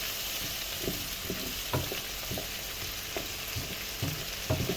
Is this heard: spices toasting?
yes